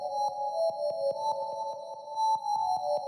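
Synth bells playing dry, without any pumping sidechain movement; a sustained, steady tonal chord rings with soft rhythmic ticks underneath, fairly quiet and even throughout.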